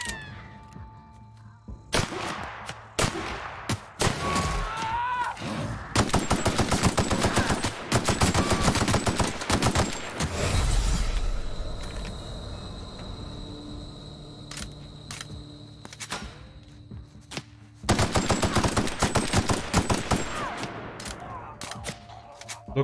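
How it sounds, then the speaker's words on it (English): Gunfire rings out during play of the video game The Outer Worlds, with loud bursts of rapid shots in dense clusters separated by calmer stretches of game ambience and tones. "So shoot them in the leg and then in the head."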